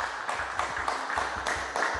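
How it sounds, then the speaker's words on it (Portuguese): A studio audience applauds a guest, a clinical psychologist, on a Portuguese-language afternoon talk show. The applause is steady and moderately distant, with repeated swells of dense clapping across the whole stretch. "Uma salva de palmas"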